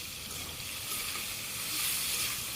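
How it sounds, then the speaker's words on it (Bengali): Bitter gourd (karela) frying in hot oil in a wok, a steady close sizzle and hiss with no break. "তেল গরম হয়ে গেছে, করলা দিয়ে দিতেছি।"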